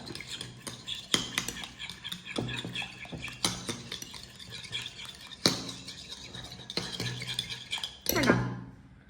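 A spoon stirs a bread pudding mixture to a creamy consistency in a bowl: near, busy clinks and scrapes against the bowl continue throughout, with a louder rattle near the end and no speech.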